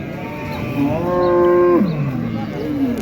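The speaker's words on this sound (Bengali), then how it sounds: "ইন্ডিয়ান গরু প্রচুর উঠেছে কাইতলা হাটে অনেক বড় বড় সাইজের গরু আপনারা দেখছেন" Cattle at the Kaitla cattle market in Tangail give a single long, loud moo that holds steady and then slides down in pitch near the end, heard against a steady market background with no talk.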